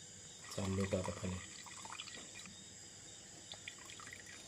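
Whey trickling and dripping from paneer strained through cloth in a village kitchen, soft and close, with someone speaking briefly over the first part and the faint trickle continuing afterward.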